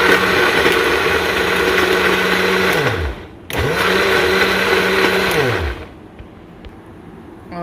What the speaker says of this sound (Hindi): ये जी सारे मसाले डाल के और फिर से एक बार ग्राइंड हो जाएगा।